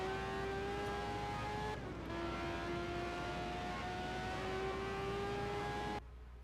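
Formula 1 race cars from 1986, BMW and Ferrari engines at the Belgian Grand Prix, screaming steadily at high revs with shifting pitch, a continuous loud engine roar that cuts off abruptly near the end.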